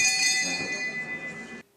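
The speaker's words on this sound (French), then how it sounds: "C'est une cloche qui n'avait plus retenti dans l'hémicycle ivoirien" A session bell rings in the Ivorian National Assembly chamber, one bright sustained metallic peal that hangs evenly for over a second and a half, then cuts off abruptly into silence.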